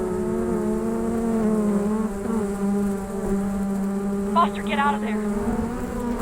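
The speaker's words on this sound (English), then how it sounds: "That would be the killer bees." A steady, droning buzz of killer bees plays as a sound effect in a Disney theme-park show, close and continuous. A voice briefly speaks over the swarm near the end.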